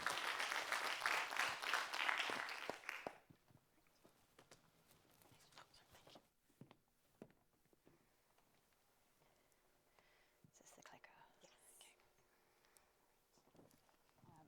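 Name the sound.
audience applause at a conference session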